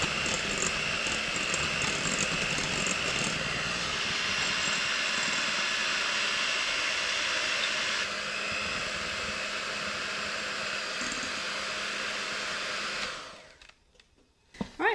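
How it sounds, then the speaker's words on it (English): An electric hand mixer whirs steadily and loudly as it beats chocolate cake batter made with cherry cola, with no talking, then cuts off near the end. "We're going to take an electric hand mixer, and I'm going to beat this for about 2 minutes"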